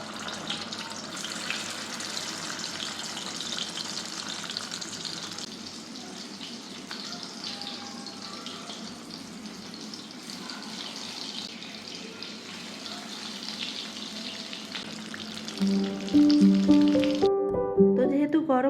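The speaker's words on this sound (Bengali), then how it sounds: "এখন ভেজে নিব।" Food frying in a pan in a home kitchen, a steady close sizzle and crackle running throughout, with a short burst of music at the end.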